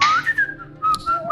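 A person whistles a bright, wavering tune alone, the notes rising and falling in a few short phrases that pause and resume over a quiet background.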